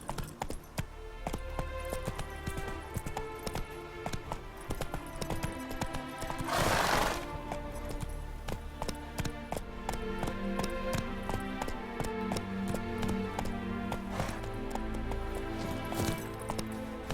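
Horse hooves gallop in a steady clip-clop rhythm throughout, with a whinny breaking in midway, set in The Witcher 3 video game against a busy layered game soundscape.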